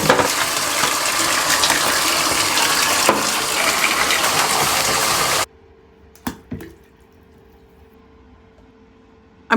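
Water runs loudly from a tap into a bathtub as a bath is drawn, a steady broad rush for about five seconds that stops abruptly, followed by a few faint knocks in quiet.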